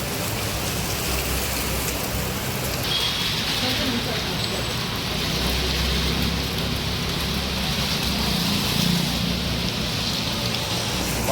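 Steady heavy rain pouring in a city, a dense continuous hiss with a low rumble underneath, loud and unbroken the whole time, with no voices.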